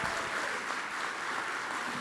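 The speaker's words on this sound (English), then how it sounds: "can we give Andrea and Leah a round of applause for what a great job?" Debate-night audience at a San Antonio mayoral runoff event clapping, a dense even wash of applause filling the room without pause or voices over it.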